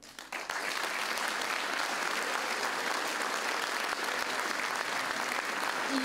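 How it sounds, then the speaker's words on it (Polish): A school concert audience applauds the performers, the clapping starting raggedly and then settling into a loud, sustained, even roar of hands that continues without pause. "Poproszę jeszcze o brawa dla wszystkich wykonawców."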